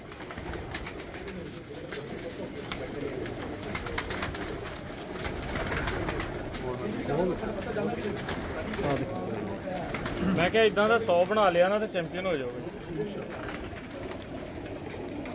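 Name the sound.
racing pigeons cooing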